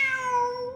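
A cat in the video game Genshin Impact meows once, a clear drawn-out tonal mew that slides gently downward in pitch, up close and on its own.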